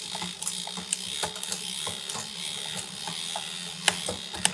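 Shimano XTR M9100 12-speed barrel adjuster turned by hand, giving small, close, faint mechanical clicks among light ratcheting and handling noise.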